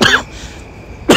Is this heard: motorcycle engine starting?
no